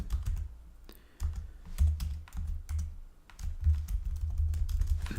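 Typing on a computer keyboard at close range, with a steady run of quick key clicks and thumps in bursts and short pauses, and no voices.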